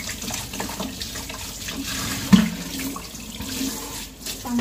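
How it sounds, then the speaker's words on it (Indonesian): Eggplants washed under a running kitchen tap, a steady close splashing stream with a brief louder splash midway and no talking. "Terongnya akan aku cuci ya."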